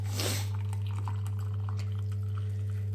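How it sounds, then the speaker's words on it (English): Water is poured from a kettle into a glass, a short splashing rush at the start followed by softer trickling and drips over a steady low electrical hum. "I'm going to pour some water straight from my kettle into the glass"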